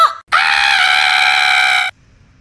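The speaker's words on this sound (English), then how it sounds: "I'm going to try to do one of those abruptly cut scream videos, a perfectly cut scream" A single loud, steady scream bursts out after a brief sound and holds evenly for about a second and a half, then cuts off abruptly into near silence.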